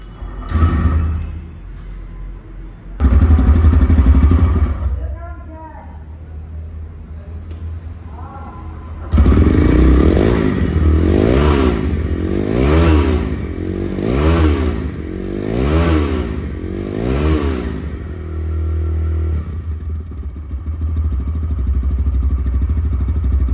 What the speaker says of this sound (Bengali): এই বাইকটি সাউন্ড শোনাইলাম আপনাদেরকে